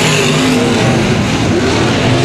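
Race cars at Super Bowl Speedway, including the 55 car, a loud continuous roar of engines at speed on the track, dense and close, with no break.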